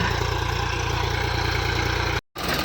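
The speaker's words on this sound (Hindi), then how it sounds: "और ये देखिए आ गया है ट्रैक्टर।" A tractor arrives in a corn field where seed and fertilizer are being sown, its engine a steady, loud idling rumble that cuts out briefly near the end and then resumes.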